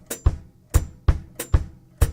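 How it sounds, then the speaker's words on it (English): Latin-style mambo kick drum ostinato played with the feet: a steady, close, dry pattern of low thumping bass-drum hits in a syncopated repeating figure, heard alone with no talking. "like maybe a kick drum pattern you might use while you're playing a mambo"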